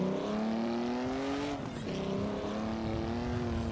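A Mercedes-Benz W125 racing car engine pulling hard near full throttle, giving a sustained, droning howl that dips briefly midway before holding steady again.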